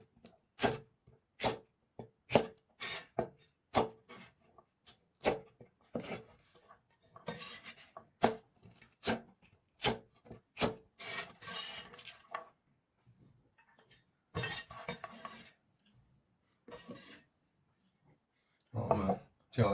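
A knife slices celery diagonally into diamond-shaped pieces on a board, giving a steady run of crisp, close chopping strokes with brief pauses and a few quicker bursts.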